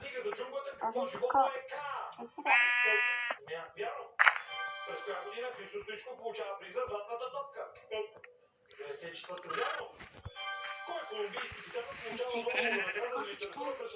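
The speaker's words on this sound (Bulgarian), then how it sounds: "Имаме 3 овце." Several bleats from sheep ring out between stretches of people talking, some short and some drawn out.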